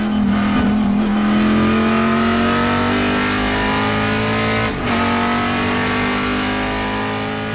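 Race car engine heard on board during a Trans Am TA2 Western Championship race at Sonoma, a loud sustained drone with steady harmonic tone and a brief dip near the end, alone without voices.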